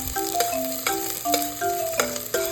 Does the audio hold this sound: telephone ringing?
no